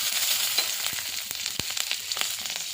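Slit green chillies hit a hot mustard seed and dried chilli tempering for a tomato and small fish sour curry, giving a moderate sizzle with scattered sharp pops and crackles, close by and with no voices.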